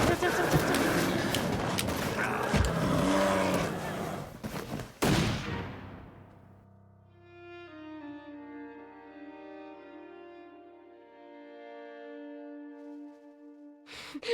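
Rapid volleys of gunshots from the survival game The Long Dark crackle loudly for several seconds, with a player's voice reacting over them, then cut off into sustained tonal music.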